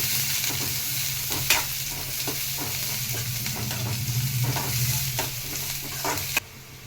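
Onions and green chillies sizzle loudly in hot oil in a pan, a steady close crackle broken by repeated stirring scrapes, with no talking, before the sound cuts off abruptly near the end.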